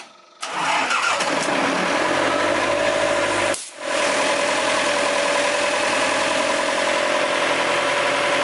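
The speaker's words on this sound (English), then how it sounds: "Just a turnkey little pump going." A small turnkey pump engine for a sandblasting setup starts up and runs steadily and loudly close by, with a brief dip in the middle before settling back into an even, continuous drone.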